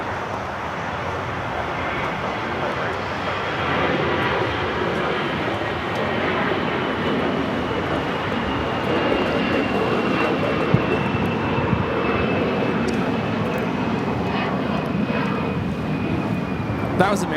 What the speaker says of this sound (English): That was American Airlines 2543 taking off to Dallas Fort Worth on the A321